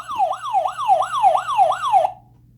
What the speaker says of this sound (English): Soon, we heard the siren.